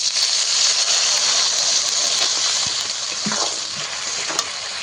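Hilsa fish curry with sola kochu (taro) sizzles loudly and steadily in a pan after a splash of water, with a few stirring scrapes over the continuous hiss.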